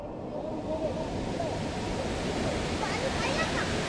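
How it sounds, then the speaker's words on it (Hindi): Rushing water of Dudhsagar waterfall in Goa, heard from right beside the falls as a dense, steady roar that fills the whole clip, with faint voices buried underneath. "जस्ट एकदम बगल में खड़े हैं झरने के"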